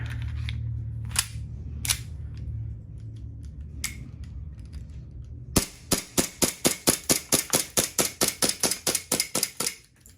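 A WE M1911 gas airsoft pistol with wooden grips fires a couple of scattered shots, then a rapid run of about twenty sharp, evenly spaced cracks close to the mic, ending with the gas running low.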